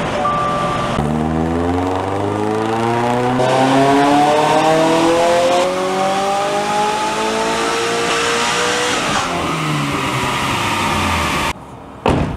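A supercharged 2022+ car running E85 fuel revs on a dyno, the engine note climbing steadily in pitch through a long loud pull, dropping off, then cutting out abruptly.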